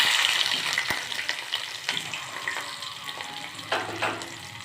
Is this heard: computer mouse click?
no